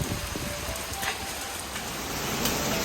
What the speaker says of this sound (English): and then this rain